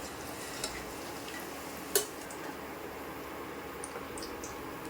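Batter-coated eggs fry in hot oil with a steady, even sizzle throughout, broken by a single brief clink of a utensil near the middle and a few faint ticks, with no talking.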